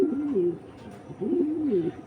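Racing pigeons coo close by in two soft, rolling bursts separated by a brief pause, with quiet room ambience between the calls.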